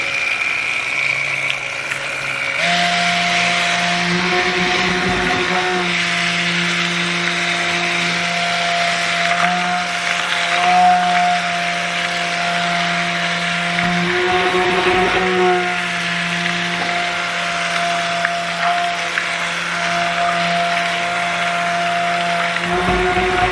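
Stick blender whirring in a batch of soap batter made with olive oil, distilled water and lye, a loud steady motorized hum with pitch shifts as it is pulsed on and off several times.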